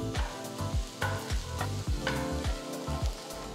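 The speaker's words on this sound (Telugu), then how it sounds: "నెక్స్ట్ నేను ఒక చిన్న నిమ్మకాయ సైజ్ అంత చింతపండుని ఇందులో వేస్తున్నాను. ఇది కూడా కలిపి కాసేపు వేయించాలి." A spoon stirs tamarind frying in a pan of roasting peanuts, giving rhythmic scraping strokes about every half second over a steady close sizzle, with no talking.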